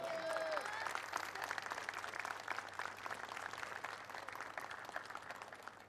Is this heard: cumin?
no